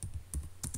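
Quick bursts of keystrokes on a computer keyboard as a search term is entered, a few clustered taps with short pauses between them, close and fairly quiet with no talking.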